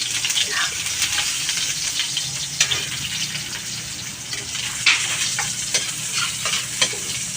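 Garlic sautéing in a pan for pork kaldereta, a continuous close sizzle with scattered sharp clinks and scrapes of a utensil stirring.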